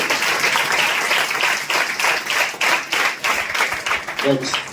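An audience at a church gathering breaks into sustained, dense applause, a loud rippling patter of many hands clapping near and far, with a voice briefly heard toward the end.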